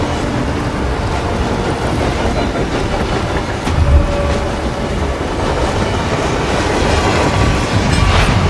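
A train moves in the video game Hitman, a continuous loud rumble with steady wheel clatter and rattling throughout, heard close and alone with no talk.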